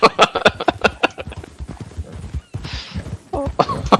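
A horse in a Wild West video game clip-clops close by with quick, uneven hoofbeats, then gives a short whinny near the end, while people talk over it.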